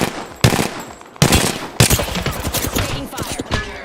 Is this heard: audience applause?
no